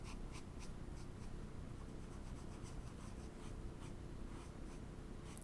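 A felt-tip marker scratches across paper while coloring, with quick, close strokes repeating in a steady rhythm against a quiet room.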